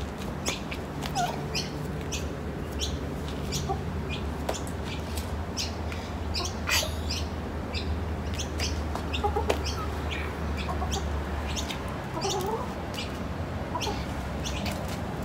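Chickens cluck and peck in a farmyard, repeated short clucks and scratchy sounds close by across a steady outdoor background, with occasional wing flutters.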